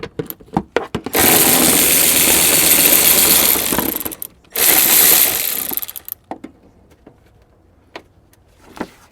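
A ratchet removes 10 mm bolts from the upper fan shroud of a GM OBS truck with a Vortec V8. Loud, close, continuous clicking runs for a few seconds, stops briefly, then starts again, with scattered clinks and knocks before and after.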